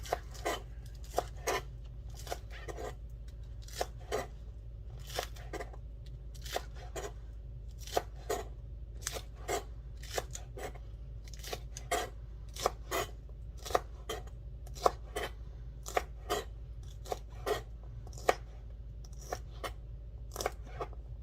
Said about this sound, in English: Dice up the green onion.